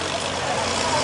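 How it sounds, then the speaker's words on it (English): Mini modified pulling tractor engine running at a truck-pull event, a steady broadband mechanical roar that stays constant and fairly loud without letting up. "There is our last mini tractor fired up back there."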